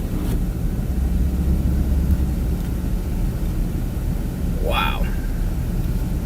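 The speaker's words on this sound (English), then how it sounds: "That's how gusty it is right here, just blowing the snow in." Gusty wind from a Michigan winter storm blows snow, a steady rumbling roar of air that continues throughout, with a short exclamation from a voice partway through.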